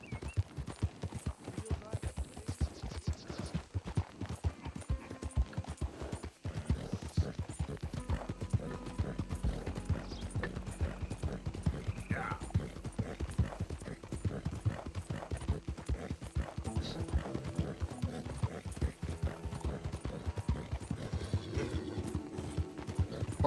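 Horse hooves clip-clop in a steady galloping rhythm while riding in the Red Dead Redemption 2 video game, with an occasional whinny and game sounds around it, running throughout at moderate loudness.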